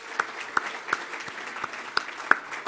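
Applause from a crowd, a steady patter of many hands with a few louder, sharper claps standing out near the front.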